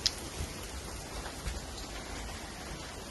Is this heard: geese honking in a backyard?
no